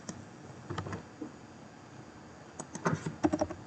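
Soft clicking keystrokes on a computer keyboard, including a Ctrl+S save shortcut, come in a few small bursts with quiet gaps between them.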